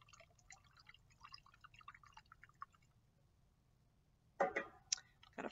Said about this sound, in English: So we're going to pour the juice in.